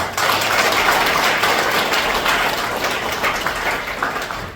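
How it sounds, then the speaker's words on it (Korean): Dense, steady applause from a crowd at a local election campaign event in Namyangju, South Korea, welcoming those attending, a continuous loud wash of many hands without talk. "함께해 주신 여러분들을 위해서 다 함께 박수로 환영하겠습니다"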